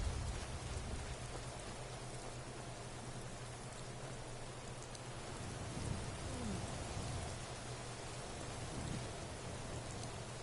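Steady rain falls in the video game Skyrim, a constant wash of hiss and patter with a low rumble beneath, continuous for the whole stretch with no voices.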